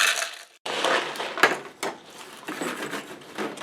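About three quarters of a cup of rock salt poured into a container for a homemade room freshener, giving a dry granular rattling hiss in several pours broken by a short pause, close and fairly loud.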